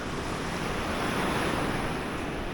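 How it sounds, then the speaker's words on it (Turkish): Steady roar of rough sea waves breaking and washing ashore on a sandy beach near Dalyan, Ortaca, dense and continuous with no voices. "Bugün gördüğünüz gibi sakin bir deniz yok dalgalı"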